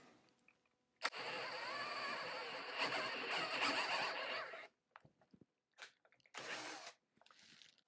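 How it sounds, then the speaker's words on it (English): A power drill whirs steadily for several seconds boring a hole in wood, then stops and gives a few short bursts, with brief quiet gaps between them. "I'll clamp it on, and we're ready to drill."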